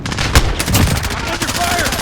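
Gunfire in the video game Modern Warfare crackles in quick bursts, loud and close, with a brief shout-like voice mixed in.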